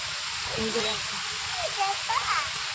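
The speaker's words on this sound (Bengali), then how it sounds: "হঠাৎ করে নেমেছে কীরকম মুসলধারায় বৃষ্টি" Heavy monsoon downpour pouring outside an open door, a steady broadband rush of rain close by, with someone talking over it throughout.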